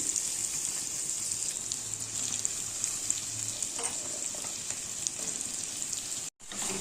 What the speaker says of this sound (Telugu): ఇవి బాగా ఫ్రై అయ్యాక బెండకాయ ముక్కలు దీనిలో వేసుకోవాలి